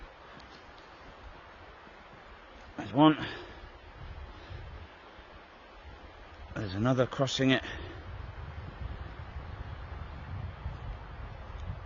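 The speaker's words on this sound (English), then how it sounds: "what you're hearing is white noise is in fact the wind blowing through the trees" Steady whooshing wind through trees outdoors by a lake, a continuous broad rush, with someone speaking briefly over it twice.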